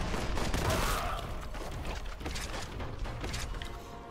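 Rapid bolt gun fire in Warhammer 40,000: Boltgun, a dense burst of loud shots with mechanical clatter that gradually thins out into quieter, spaced reports.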